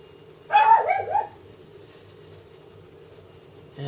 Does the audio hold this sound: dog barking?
yes